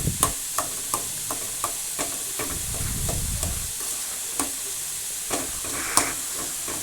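Mashed potatoes worked with a spoon in a pan for a potato stuffing: regular spoon taps and scrapes against the pan about twice a second over a soft sizzle, close and moderately quiet, no talking.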